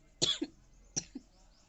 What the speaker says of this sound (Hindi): ये खांसी को भी अभी आना था।